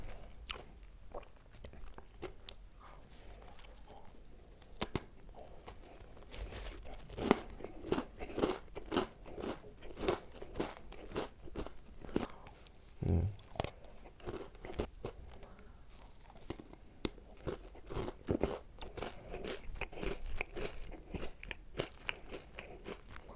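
Close, crisp crunching and chewing of Pepero chocolate-coated biscuit sticks, repeated sharp snaps and bites with soft chewing between them, and no talk.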